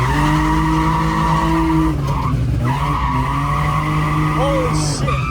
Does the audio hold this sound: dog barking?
no